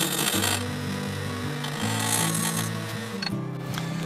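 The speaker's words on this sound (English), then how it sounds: "you can see how I'm going to be able to use the heel of that to really define the foot on this piece" A small skew chisel cuts a wooden bowl spinning on a lathe, defining the foot, with a steady hum of the lathe under continuous rough scraping and rasping, loud and close.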